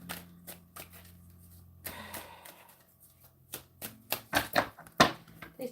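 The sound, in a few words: tarot cards being shuffled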